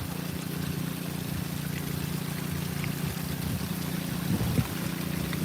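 Water spills down small waterfalls in a stream, a steady soft rushing and trickling wash heard close and continuous, with no talk.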